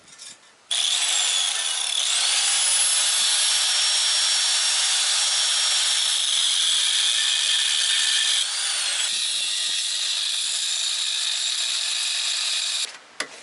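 Power saw cutting steel for a homemade rear bumper on a 1998 Jeep Cherokee XJ, a loud, sustained whining cut running for about twelve seconds with a brief dip in pitch midway before stopping.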